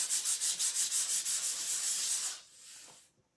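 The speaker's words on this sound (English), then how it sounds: "You can just take a piece of paper and go over your project" Paper rubbed back and forth over a chalk-painted wooden ornament, a close, rhythmic dry swishing of about a dozen quick strokes, then a softer, slower pass fading out.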